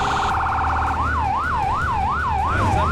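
An emergency vehicle siren in a firefighting simulator game, loud and near, shifting from a rapid high warble into a repeated sweeping wail about twice a second over a low engine hum.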